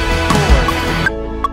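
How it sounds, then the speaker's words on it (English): Closing choruses of a worship song play back through a live-performance backing-track app, dense full-band music running steadily at moderate loudness before dropping suddenly quieter near the end. "So we're going to play the last couple choruses of the song"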